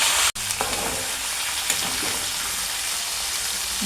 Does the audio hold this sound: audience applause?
no